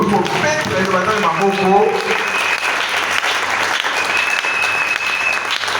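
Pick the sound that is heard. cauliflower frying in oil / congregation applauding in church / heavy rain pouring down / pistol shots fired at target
congregation applauding in church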